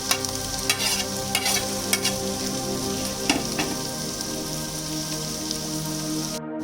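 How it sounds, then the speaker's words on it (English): Chopped onion frying with garlic in a pan, a steady close sizzle with scattered crackles and pops throughout, no talking. "Now add the onion and fry it till it is become golden brown in color."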